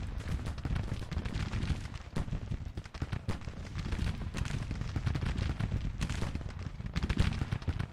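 Gunfire and artillery from a Civil War battle in the strategy game Grand Tactician: a dense, continuous rumble of musketry and cannon fire with rapid crackling bursts, steady and fairly loud throughout, with no clear pauses.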